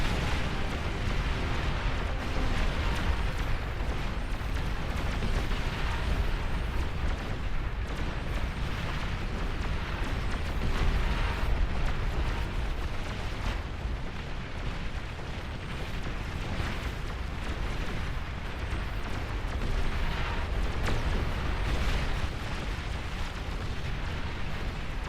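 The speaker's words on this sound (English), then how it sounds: "Which is the longest range plasma cannon." Plasma cannon fire and explosions from a large battle in the real-time strategy game Beyond All Reason: a dense, continuous roar of booms and bursts that stays loud and steady throughout, with no talking.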